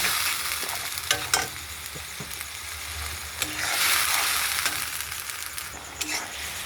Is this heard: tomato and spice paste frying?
yes